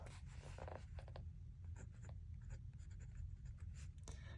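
Fountain pen with a titanium Monarch nib and Ultim feed writing on paper, a close, faint and steady scratchy glide broken by short strokes and lifts, with no voices.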